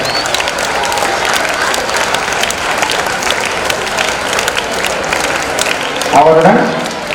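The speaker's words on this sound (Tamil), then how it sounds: "ஒரு பலத்த கரவொலி எழுப்பி அம்மா அவர்களை" An audience at a school reunion event bursts into a dense, sustained round of clapping to welcome a guest, the loud applause rolling steadily on before a voice cuts in near the end.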